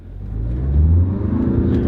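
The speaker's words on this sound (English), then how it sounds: "As you can hear for a four-cylinder car, it's quiet, it's smooth, but when you step on the gas" A Mazda four-cylinder Skyactiv engine pulls under acceleration, a steady low rumbling drone that swells in loudness and rises in pitch over a couple of seconds.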